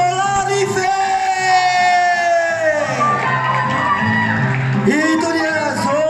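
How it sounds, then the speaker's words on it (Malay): An audience cheers and shouts for the lead actor at a Malaysian film cast introduction for Misteri Dilaila, loud crowd whoops and yells with an amplified voice speaking over them throughout. "Tepukan untuk hero Melaya, Zola Rife."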